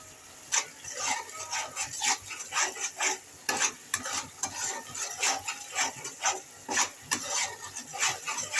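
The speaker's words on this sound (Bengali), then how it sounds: "এই মশলাটা এখন সময় ধরে একটুখানি ভালো করে কষিয়ে নেব" Spice paste for a rohu fish and potato curry is stir-fried in a pan, with rhythmic spatula scrapes roughly twice a second over a constant sizzle, near and fairly loud.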